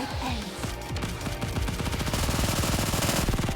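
Rapid automatic gunfire in a video game, a dense machine-gun stream of sharp cracks firing toward the player, steady and loud throughout with no voices.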